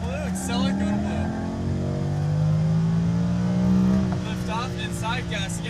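A Lamborghini Huracan accelerates hard on a track, its engine note climbing through the revs up close, while an instructor talks over the roar.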